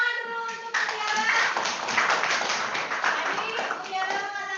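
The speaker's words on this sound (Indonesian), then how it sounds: "Tepuk tangan dulu untuk Mutiara." A class on a video call breaks into applause, a dense patter of many hands clapping steadily for several seconds, mixed with children's voices and some tapping.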